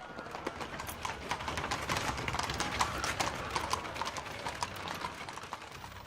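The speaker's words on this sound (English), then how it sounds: "Only then would the horses move on." Horses' hooves clip-clop at a steady walking pace, a dense run of close tapping hoofbeats over a low rumble, heard alone without talking.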